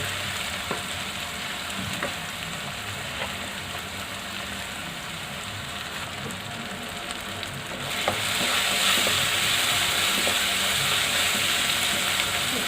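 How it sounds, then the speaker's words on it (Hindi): Chopped tomatoes frying in a pan for a paneer keema, a continuous loud sizzle with occasional stirring scrapes that grows brighter and louder in the last few seconds, no voices. "अब टमाटर को भी हम भून लेंगे"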